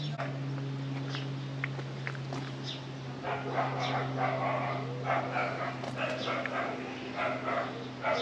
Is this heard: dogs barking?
yes